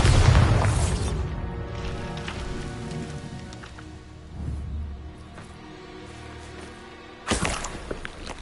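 The Bombarda spell in Hogwarts Legacy sets off a loud booming blast that fades into a rumbling, crackling tail, followed later by a second sharp burst.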